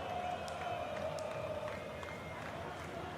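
A marble race crowd roars in a continuous, dense wash of cheering at the start of a 16-nation Marble World Cup, holding steady and loud from start to finish.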